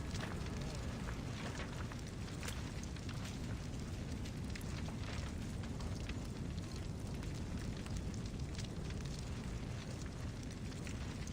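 Fire burning in the Assassin's Creed Odyssey video game, a steady broadband roar and crackle that fills the scene continuously at moderate level, with possible faint game voices mixed in.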